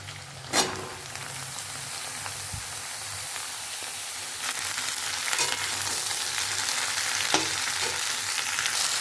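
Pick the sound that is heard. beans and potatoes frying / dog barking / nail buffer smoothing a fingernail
beans and potatoes frying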